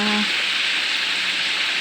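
Oil sizzles and crackles steadily as tilapia fries in a hot pan, a close, continuous hiss of frying.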